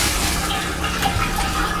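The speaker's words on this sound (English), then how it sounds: "I'm gonna step on the toilet flusher," Foot-pedal flush of a Class C RV toilet: a steady, close rush of water pouring down into the black water tank, broadband and continuous for the whole stretch with no talking.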